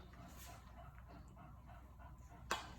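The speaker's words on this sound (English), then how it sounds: "The panting you hear is Madeline, the English Bulldog" An English Bulldog pants steadily nearby in a kitchen, quiet and rhythmic against a low background hum, with a brief sharp clatter near the end.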